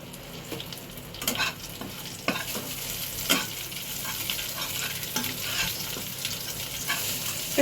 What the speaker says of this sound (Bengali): কালো জিরে সবটাই আমি এর মধ্যে দিয়ে দিলাম